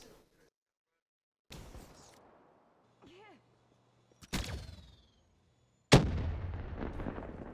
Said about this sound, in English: now sentry gun is sat here. So what we'll do, bring it up, and we'll watch the carnage from here.